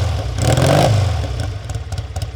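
A 1971 Triumph T100C Trophy 500cc twin with twin high-level pipes revs close by, swelling briefly to a throaty peak and then dropping back to a lumpy, pulsing idle.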